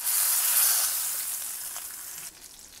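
Salmon sears skin down in butter and neutral oil in a skillet, a bright, steady close-up sizzle that eases slightly before dropping quieter near the end.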